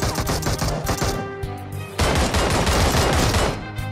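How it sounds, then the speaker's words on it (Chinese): Rapid bursts of gunfire from a hip-fire kill in the video game Peacekeeper Elite, with a QBU rifle in play: sharp, loud shots in quick clusters, a short gap, then a denser volley. "直接腰射将他击杀。"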